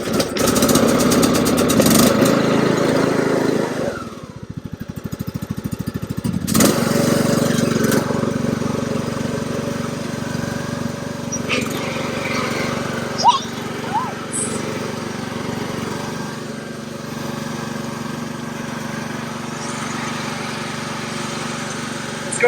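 Craftsman YT3000 riding lawn mower with the choke on being cranked and started after priming the fuel, then running at a steady, loud mid-pitched drone close by, with a brief dip before it settles and people talking over it.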